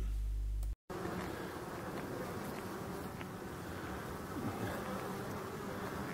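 Honeybees at a forest hive buzz steadily in a dense, continuous drone as they defend against a hornet, heard close and alone after a very brief cut near the start.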